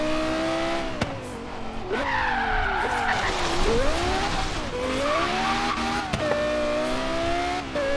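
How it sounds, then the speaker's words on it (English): A Lexus LFA in the racing game Forza Horizon 3 screeches through corners, with long wavering tire squeals over a revving engine. "And the LFA is not that easy to race."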